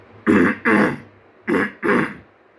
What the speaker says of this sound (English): clear your throat, but as aggressively as possible